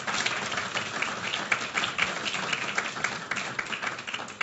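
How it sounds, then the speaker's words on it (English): An audience at an international conference on migration and development applauds the two presenters with a steady, moderately loud patter of many hands, no voices on top. "a great applause for the two presenters"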